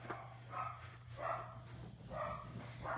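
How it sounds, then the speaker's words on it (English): Several dachshunds bark in short, repeated bursts at a moderate distance, the yaps rising and falling in rough clusters over a steady low hum. "You hear them? It's like wiener dog races."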